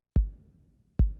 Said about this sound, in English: That noise you can hear is the kick.